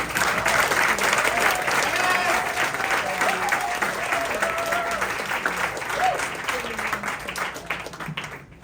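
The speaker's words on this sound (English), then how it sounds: "A round of applause for your faculty and mentors" Steady audience applause fills a graduation-style senior ceremony honoring faculty and mentors, dense and loud throughout before thinning slightly near the end, with faint voices mixed in.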